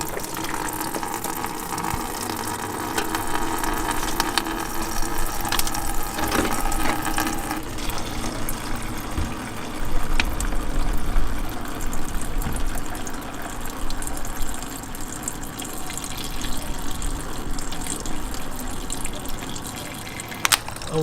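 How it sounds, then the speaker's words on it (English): Water rushes steadily through the cooling system of a 1988–98 Chevy C/K1500 during a coolant flush, a continuous close gushing flow with small splashes and drips. "we're going to go ahead and run some water through it, see if we can flush out more stuff out of here"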